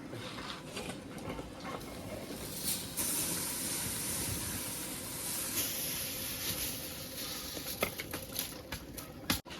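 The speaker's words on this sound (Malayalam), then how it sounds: "അപ്പോൾ നമ്മുടെ വെള്ളം തിളച്ചിട്ടുണ്ട്" Water boils in a pot for biryani rice with a steady hiss and soft bubbling patter, punctuated by occasional sharper crackles and pops close by.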